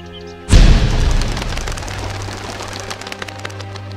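Loud firework blast in an anti-gunpowder public campaign spot: a sudden booming burst at about half a second, followed by a long rumbling, crackling decay with a steady low tone underneath.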